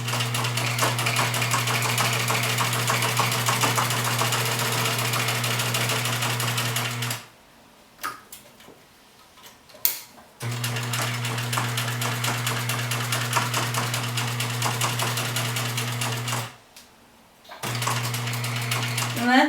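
A sewing machine runs in long steady bursts while stitching a fabric face mask, its motor hum and rapid needle clatter loud and close, stopping briefly twice between runs.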